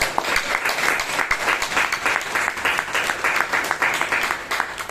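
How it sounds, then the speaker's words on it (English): A Toastmasters meeting audience in Bangalore applauds a speaker, a dense, steady wash of many hands clapping with fairly even intensity throughout, filling the room without any talk over it. "please give Vijay Kalkundri a big round of applause"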